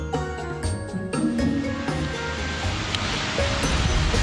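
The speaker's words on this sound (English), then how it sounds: "Found the waterfall." Star Creek Falls, a waterfall in Crowsnest Pass, gives a steady broadband rushing roar of falling water outdoors, building slightly and continuing without talk, with a few faint tonal tinkles at the start.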